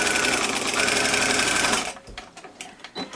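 A serger sewing machine stitches a cloth face mask, running in a loud continuous whir for nearly two seconds before stopping, followed by quieter handling clicks and rustles.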